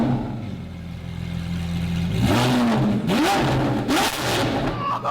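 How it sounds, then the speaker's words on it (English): Golf cart engine idling with a low steady hum, then revving up in a series of sharp rising bursts that fall back between pulls, loud and close, with no talk over it. "Rev a bit."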